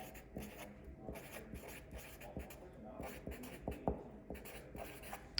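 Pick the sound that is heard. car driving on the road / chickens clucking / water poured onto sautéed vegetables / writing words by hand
writing words by hand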